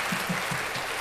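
Audience clapping for the Golden State Warriors at a live NBA talk show taping, a brief, steady patter of hands with rhythmic low thumps, moderately loud and without talk over it.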